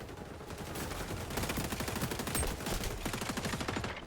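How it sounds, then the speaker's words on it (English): MP7 submachine gun fire in XDefiant, a rapid continuous stream of sharp automatic shots sustained for several seconds, loud and close with no talk. "MP7 has good range if it can get me from that far."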